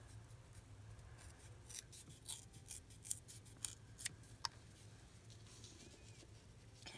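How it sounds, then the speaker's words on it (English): Scissors snip through a card stock craft card in a run of sharp, crisp cuts, clustered quick snips at close range over a low steady hum, with no talking. "let's go ahead and trim this card all the way up"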